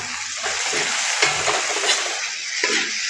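Onions frying in a pan over moderate heat for egg curry, giving a steady broadband sizzle with a few soft stirring scrapes, close and continuous with no talking.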